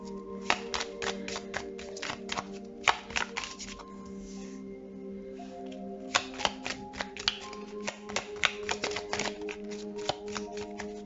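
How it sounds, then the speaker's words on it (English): Tarot cards being shuffled repeatedly, with bursts of crisp riffling and flicking, close up and fairly loud, no talking. "So I'm gonna shuffle the cards, pick 3 cards"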